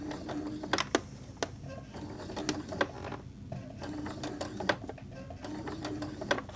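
A home sewing machine works through an AirPods keychain case one stitch at a time, giving short separated mechanical clicks and whirs against a steady low hum.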